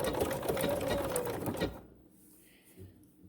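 A BERNINA sewing machine fitted with a twin needle stitches decorative corded pintucks in a fast, steady whir for about a second and a half, then stops, leaving near silence with a faint tail.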